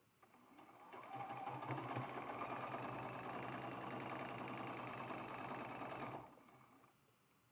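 A sewing machine stitches quilt blocks for a traditional star quilt, running in one continuous close whirring burst of about five seconds before stopping.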